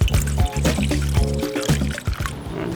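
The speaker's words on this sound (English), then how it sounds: "I'm gonna kind of just pour a little bit of Coke in there." Coca-Cola is poured from close by into a bowl of hydrogen peroxide, a continuous gurgling, splashing pour with bubbly ringing tones that trails off toward the end.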